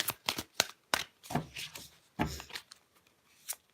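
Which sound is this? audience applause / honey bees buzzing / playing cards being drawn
playing cards being drawn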